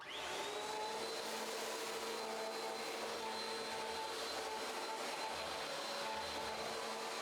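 A Bissell Cleanview Compact vacuum cleaner runs steadily through a large mess with a loud, continuous motor whine and airflow roar, plus faint rattles from debris getting pulled in.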